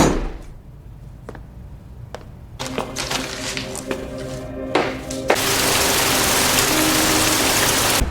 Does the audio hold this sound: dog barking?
no